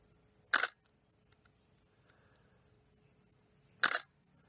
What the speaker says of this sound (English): listen to the shutter. Can you hear it getting slower as you slow it down?